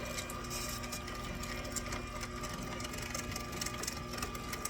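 Electric meat grinder running while grinding chicken apple sausage, a steady, even mechanical whir with fine rapid pulsing, moderately quiet and continuous with no talk.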